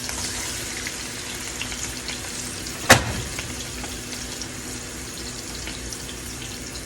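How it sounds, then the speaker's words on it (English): A chicken thigh sizzles steadily in a hot pan, a continuous crackling hiss with one sharp clack partway through. "We're going to take our chicken thigh. Y'all hear that sizzle?"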